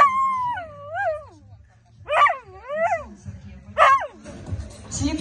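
Puppies whimper and yelp in rising, wavering cries, several separate bursts close by, followed by short barks and rustling toward the end.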